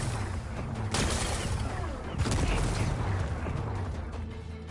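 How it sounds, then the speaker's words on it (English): Rocks blasted apart in the video game Horizon Forbidden West, two loud booming bursts about a second apart with rumbling debris and crackle trailing after each, close and heavy against steady game ambience. "Gotta blast away some rocks, so I can expose the power cell"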